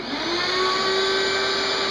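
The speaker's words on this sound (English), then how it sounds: "Turn the vacuum on." A vacuum cleaner is used to suck down a pop bottle over a canopy plug, giving a loud, steady, rushing roar with a high whine rising in pitch as it spins up, heard alone throughout.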